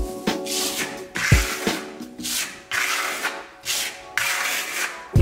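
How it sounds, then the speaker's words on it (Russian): Trowel smoothing and compacting a second layer of microcement on furniture, giving an aged finish: steady rhythmic scraping strokes, close and fairly loud, repeating in bursts of about a second with short pauses, no talking. "Наносится он так же, как и первый слой, только мы его чуть больше заглаживаем материал, тем самым уплотняя его."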